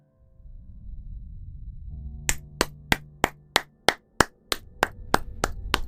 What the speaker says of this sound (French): là, on peut clapper des mains